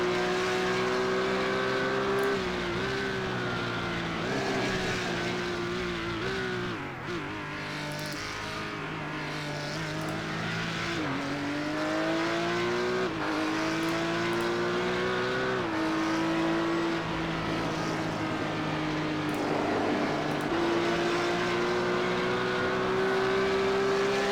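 On-board engine of a TSRC V-TEC series race car lapping Barber Motorsports Park, a loud, steady drone that rises and dips through gear changes and corners with no talk over it.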